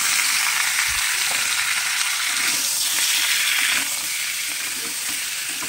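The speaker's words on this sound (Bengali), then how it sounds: "এবার আমি দিয়ে দেবো পরিষ্কার করে ধুয়ে রাখা চিকেন" Washed chicken hits hot oil with whole garam masala and bay leaf, setting off a loud, steady sizzle with light stirring and a brief watery hiss, no voices.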